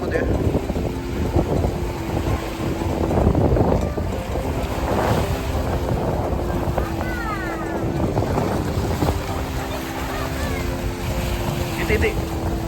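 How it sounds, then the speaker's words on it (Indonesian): Boat ride across open water to Gili Trawangan, Lombok, with a steady engine drone, rushing wind buffeting the microphone and wave wash, loud and continuous throughout while people talk over it. "Naik kapal dulu ke Gili."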